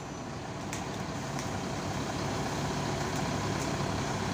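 An ALS 220 Reborn bus pulls out of its garage, its engine giving a steady, moderately loud rumble with a faint high whine on top and a few light clicks, and no voices.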